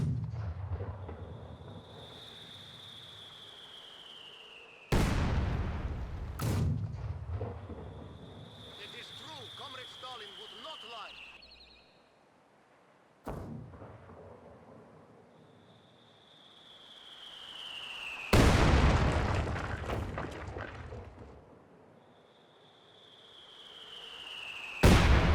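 Video game artillery barrage: several heavy booming shell impacts land at irregular intervals, each a sharp blast trailing into a long rumble, with a whistling incoming tone between hits.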